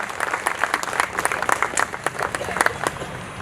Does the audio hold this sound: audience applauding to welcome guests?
yes